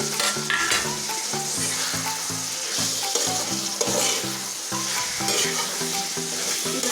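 Potato pieces fry in hot oil while being stirred with a spatula, giving a steady sizzle broken by repeated scraping strokes, close and alone.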